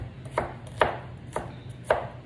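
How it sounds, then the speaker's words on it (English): A knife chopping peppers on a cutting board for shrimp and grits, four crisp, evenly spaced chops, close and clear with no talking. "now we're almost done chopping up our peppers"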